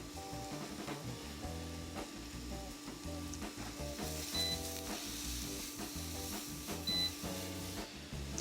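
Cremini and maitake mushrooms with shallots sautéing in a little butter, a steady close sizzle broken by periodic stirring scrapes and a couple of faint high beeps, with no talking.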